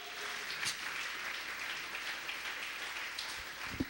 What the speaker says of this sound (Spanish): vamos a regalarle otra ofrenda de palmas al Dios de la gloria